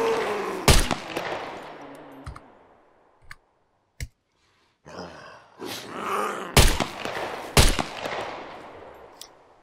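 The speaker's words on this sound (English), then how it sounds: "We're going to try and shoot the puppets at exactly the same speed" Handgun shots in the game Scum, loud sharp reports fired one at a time with gaps between them and longer ringing tails, plus a few fainter clicks and thuds.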